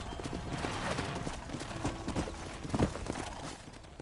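A horse's hooves clip-clop at a walk toward a stable on a ranch, a steady irregular patter of hoofbeats with a louder knock near the end, set against a constant outdoor background.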